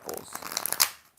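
Tarot cards are shuffled by hand in a quick burst of crisp, riffling flutter, close and clear, ending in a sharp snap before falling quiet.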